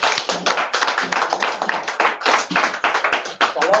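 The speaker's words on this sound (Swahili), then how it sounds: "tumpigie makofi" An audience at a religious festival gathering claps steadily, a loud, dense patter of many hands that continues throughout the clip.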